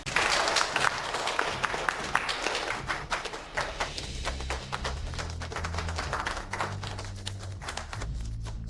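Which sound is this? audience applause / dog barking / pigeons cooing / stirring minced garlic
audience applause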